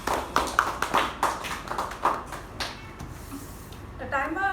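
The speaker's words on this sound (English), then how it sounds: "The timer deserves a better round of applause, right?" A small audience at a Toastmasters meeting claps for the timer's report, giving a short run of scattered, uneven claps that thin out before a voice begins speaking.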